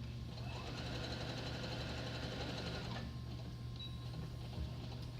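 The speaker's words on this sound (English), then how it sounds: "I'm going to do a lock stitch with this at the beginning and at the end." A sewing machine runs a lock stitch along a 5/8-inch seam allowance on a garment lining, giving a steady, continuous mechanical whir and hum at an even pace from start to finish.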